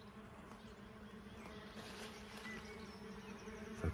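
Bees buzz continuously around nesting tubes outdoors in spring, a steady, dense insect drone from many bees close by, with no talking.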